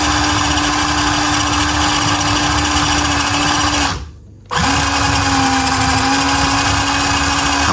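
Toyota Land Cruiser LC79 MN82T RC tow truck accelerating while turning, a loud high-pitched electric motor whine held steady, cutting out briefly partway through and then revving back up, with no voices.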